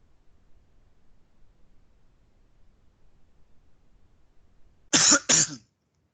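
A person coughs twice in quick succession, sharp and close, after several seconds of near-silence with faint background hiss.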